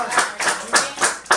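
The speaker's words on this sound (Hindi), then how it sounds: "तालियां बजाइए इसके लिए।" A few people clap in slow, rhythmic beats, about five distinct claps spaced evenly and heard close and moderately loud, at a gathering after a girls' cricket tour.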